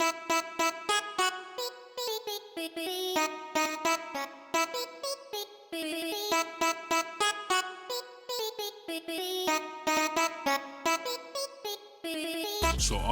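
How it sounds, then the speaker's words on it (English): Two vocal samples in FL Studio play a call-and-response melody together, a dense run of short, bright, pitched stabs in a steady rhythm that continues loud and unbroken, with no talking. "they're both playing a call and response melody"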